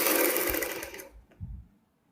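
A sewing machine runs in a loud steady whir while stitching a doubled-over fabric strip for a V-neck, then stops near the middle, leaving a few soft handling thumps before quiet.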